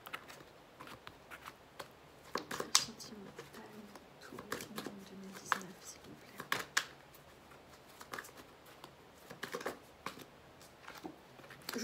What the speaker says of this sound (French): pendant que je brasse les cartes